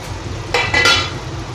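Tomato drops into hot oil with fried spice masala in a home kitchen pan, giving two short, loud sizzling bursts close by over a quiet background.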